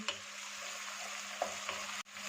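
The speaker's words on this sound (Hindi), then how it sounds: "इसके साथ इसमें 2-3 टेबलस्पून दूध शामिल कर देंगे और इसे अच्छी तरह से भून लेंगे।" Garlic frying in a pan with a few tablespoons of milk added for a white chicken karahi, a steady soft sizzle with occasional stirring clicks, ending in a brief cutoff.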